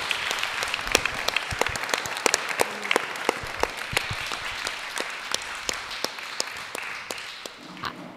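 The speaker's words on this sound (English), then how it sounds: "Round of applause for all our artists and everyone." An audience claps for the artists at the close of an arts session, a moderate, fairly sparse applause with distinct individual claps, fading slightly toward the end.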